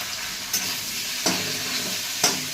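Vegetables for an oil-free, low-calorie paneer dish cook in a pan, a soft steady sizzle under three distinct scrapes of stirring spaced about a second apart, close and fairly quiet.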